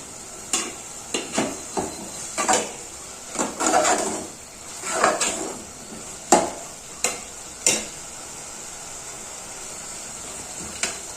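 Cooked rice being stirred into fried lemon-rice seasoning in a pot in a village-style home kitchen: a spoon scrapes and clanks against the metal in separate close strokes, with quiet gaps between them.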